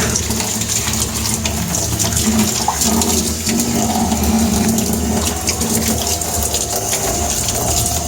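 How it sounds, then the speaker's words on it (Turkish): Water gushing steadily out of a radiator panel being flushed clean, a loud continuous rushing flow with no pauses. "hala oynattığımızda içerisinden temiz su geliyor"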